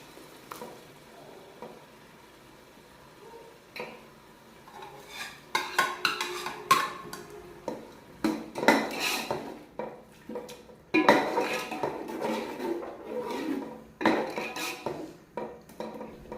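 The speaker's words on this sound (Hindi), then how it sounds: "इन चीज़ों को अच्छी तरह से मिक्स कर लें।" Cabbage with fenugreek and green chili being stirred in a pan, a spoon clanking and scraping against metal in irregular bursts over a soft sizzle, close and fairly quiet.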